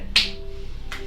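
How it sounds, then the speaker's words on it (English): Two hand claps made underneath the knees while lifting the shoulders off the floor during a bicycle-style floor exercise. The claps are separated by nearly a second, and a faint steady hum runs between them. "you just clap underneath your knees"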